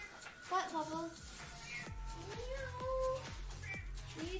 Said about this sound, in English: You're just like a screaming cat in the background right now.